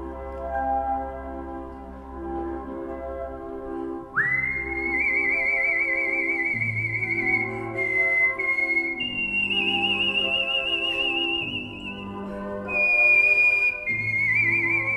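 A professional whistler holds clear, sustained whistled notes that glide and shift pitch in a melodic line, loud and close over soft instrumental accompaniment, with no talking.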